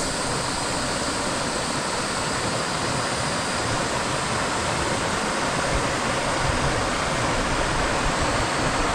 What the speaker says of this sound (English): Looks like beneath that cliff there, there's a hole in the ground, gushing water.